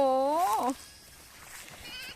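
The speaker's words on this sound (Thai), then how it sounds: "ดูสิ ดูสิลูกแพะ" A baby goat gives a single clear, wavering bleat close by at the start, then quiet outdoor background with other goats grazing nearby.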